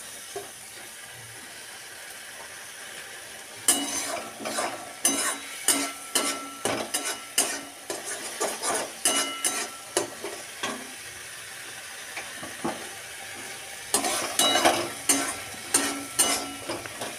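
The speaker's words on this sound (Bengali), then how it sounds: "এখন সামান্য জল দিয়ে এটাকে কষিয়ে নেব, না হলে কিন্তু এটা পুড়ে যাবে।" Spice masala with a little water being fried and stirred in a pan, with a steady low sizzle and bursts of rhythmic scraping and clinking from the spoon against the pan, loud and close, and no voices.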